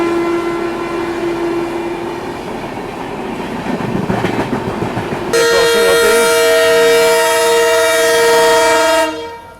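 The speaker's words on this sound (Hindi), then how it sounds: "वहाँ तक बढ़िया से आपको डीजल लोकोमोटिव का साउंड करीब से दिखाते हुए चलेंगे" Diesel locomotive of the Bhagat Ki Kothi Express sounds a loud, sustained horn blast over rumbling rail noise and clatter of passing cars, with a lower tone early on and a bright multi-tone horn dominating the final few seconds.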